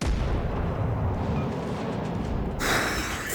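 A battleship's twin-turret main guns fire a salvo in World of Warships Legends, a heavy sustained rumbling boom followed by a sharper blast near the end, loud and close.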